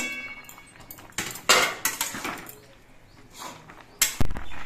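A spoon scrapes and clinks against a pan while boiled papaya and potato pieces are stirred, giving a few sharp metallic knocks and clatters at an uneven pace, close by.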